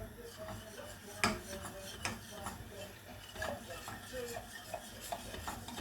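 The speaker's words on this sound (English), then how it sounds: "Just keep whisking it." A whisk stirs lasagne sauce with melting cheese in a pan on the heat, with a steady scraping and rubbing rhythm and occasional metallic clinks against the pan, close and moderately loud.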